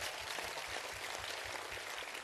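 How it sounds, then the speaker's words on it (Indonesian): Steady applause from a large audience at an outdoor Sinau Bareng religious gathering with Cak Nun, a continuous dense patter of many hands clapping at a fairly quiet level with no voices over it. "Tepuk tangan untuk Anda."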